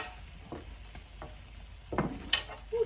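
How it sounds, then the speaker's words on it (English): Crispy tofu tipped into a veggie and tofu stir fry and stirred, giving a few soft scraping stir sounds and a brief louder clatter near the end over a faint background, no talking. "I'm going to pull out this crispy tofu and just pop them on in and give everything a stir"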